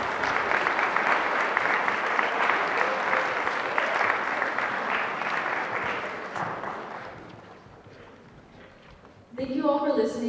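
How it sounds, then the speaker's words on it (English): Audience applause after a panel discussion closes, a dense sustained crowd clapping that gradually fades away, followed by a brief burst of other sound at the end. "Let's give them one last round of applause."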